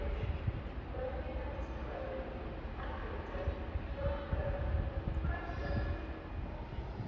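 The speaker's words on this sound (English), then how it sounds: "Now arriving in is the 1520 Trans-Pennine Express service from Redcar Central to Manchester Airport." A TransPennine Express train pulls into York station, its low rumbling rolling noise steady and fairly distant with faint wheel squeal and platform ambience, with no voice heard.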